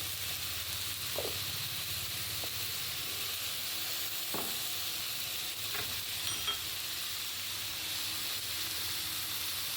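Green chillies with turmeric sauté in oil in a pan for a Bengali fish and bean curry, a low steady sizzle and hiss with occasional faint scrapes of a spatula.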